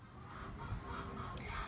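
A flock of backyard hens clucks and murmurs together in a soft, continuous chatter, fairly close, with a brief higher squawk near the end.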